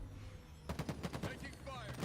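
Video game gunfire erupts after a quiet start, a quick rattling burst of evenly spaced shots at moderate loudness, with some speech mixed in.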